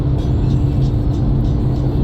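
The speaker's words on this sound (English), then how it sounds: "here I am driving the Camaro" A 2019 Chevrolet Camaro SS 1LE drives along with a steady, loud low engine drone and road rumble from inside the cabin, even and continuous without revving.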